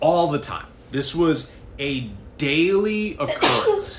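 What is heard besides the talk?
sneeze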